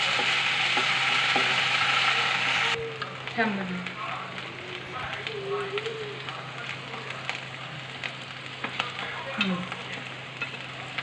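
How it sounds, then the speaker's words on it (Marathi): Spice masala with ginger-garlic paste roasting in a pan, a quiet sizzle under scraping stirs and occasional clicks; a loud hiss fades early, and a voice talks faintly in the background. "ते पण मसाला थोडासा आपल्याला भाजून घ्यायचा आहे"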